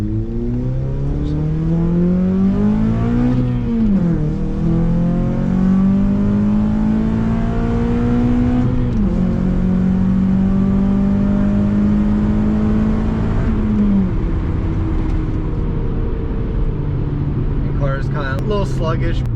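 Acura TSX with a K-series engine and an exhaust leak, revving up through several gears with rising, sweeping engine tones and shifts, loud and close throughout, with no talk over it.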